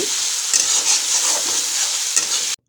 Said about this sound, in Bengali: আমি মশলাটাকে এখন ভেজে নিচ্ছি